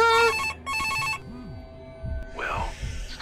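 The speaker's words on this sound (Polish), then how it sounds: "O! Telefon." A telephone rings in short double bursts, loud and close, in a Five Nights at Freddy's style animatronics horror game, followed by low thuds and a rising electronic sweep.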